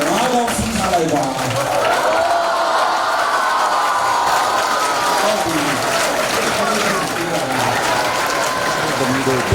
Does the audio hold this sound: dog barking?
no